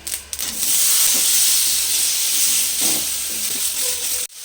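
Tomatoes dropped into a hot pan of oil with garlic and whole mustard seeds, giving a loud, steady steamy sizzle and hiss that holds for several seconds before cutting off abruptly.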